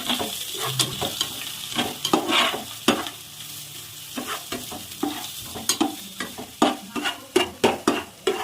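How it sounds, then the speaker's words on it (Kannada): Chopped onions fry in a pan with ginger-garlic paste for noodles, a steady sizzle broken by repeated sharp scrapes and knocks of a stirring spoon against the pan, close and alone with no voices. "ಇದಕ್ಕೆ ಸ್ವಲ್ಪ ಈರುಳ್ಳಿ ಹಾಕೋತಾ ಇದ್ದೀನಿ. ಈಗ ಇದು ಗೋಲ್ಡನ್ ಬ್ರೌನ್ ಬರೋವರೆಗೂ ಹುರ್ಕೊಳ್ಳೋಣ."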